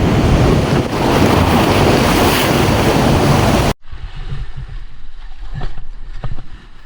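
Ocean surf on Réunion washes over a diver entering the water at the foot of a cove, a loud, continuous roar of breaking water and wind. It cuts abruptly to quieter, muffled water sounds with soft bubbling knocks.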